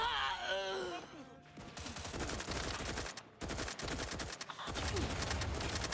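Rapid gunfire from The Outer Worlds 2 crackles in dense bursts nearly throughout, with brief gaps between volleys and a groaning voice over the opening second.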